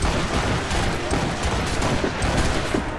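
Rapid gunfire from Assassin's Creed Rogue, dense overlapping shots crackling loudly for about three seconds with no talk.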